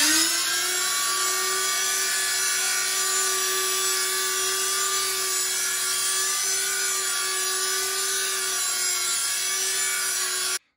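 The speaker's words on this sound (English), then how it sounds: "And now we're going to grind it, and it's making quite a bit of noise." An electric grinder pulverising dried rosehips gives a loud, steady high-pitched whine with a constant motor tone, running without a break until it cuts off abruptly at the end.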